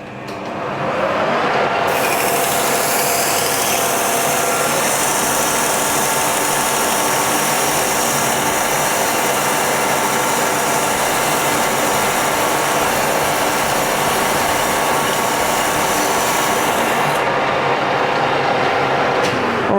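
A Colchester metal lathe cutting with a newly fitted tool gives a steady, loud rasping whir that starts abruptly, holds evenly for about fifteen seconds, then stops, with no talking.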